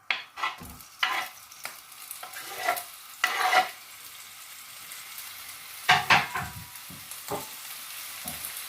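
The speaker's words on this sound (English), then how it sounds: "Whilst that's cooking, I'm going to add my bacon." Bacon fries in a pan with intermittent stirring scrapes and crackling bursts, the sizzle rising and falling in uneven clusters, close by and with no talk.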